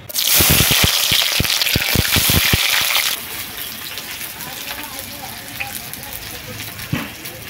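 Chopped onion hits hot oil that has burnt sugar in it for a chicken curry, giving a loud, dense sizzle with spattering crackles. The burst is strongest for about three seconds and then settles into a quieter, steady frying hiss.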